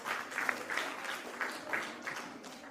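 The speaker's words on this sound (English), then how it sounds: "Please give a huge round of applause." An audience applauds at a storytelling competition finale, moderate clapping that swells and eases in an uneven rhythm, heard from some distance.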